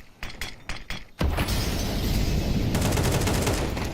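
Molotov cocktails bursting in the Counter-Strike video game: a few sharp clicks and taps, then a sudden loud glassy burst that gives way to a steady, roaring crackle of fire with rapid rattling on top, and no talking.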